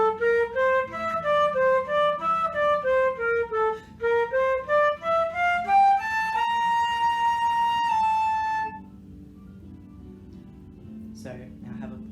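Flute phrases move through quick stepwise notes, broken by brief gaps for fast breaths, ending on a long held tone before fading to quiet.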